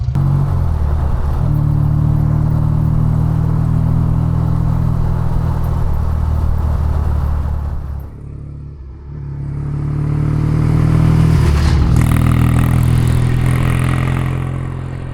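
A classic British Triumph Bonneville T140 motorcycle rumbles along steadily out in the Hampshire countryside, its loud low engine drone fading briefly around the middle before building back up as the ride continues.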